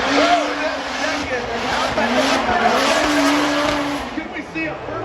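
A Formula Drift car on Nitto tires skids through qualifying at Long Beach, with steady tire squeal and engine roar all the way through, continuous and loud with wavering pitch and crowd noise beneath.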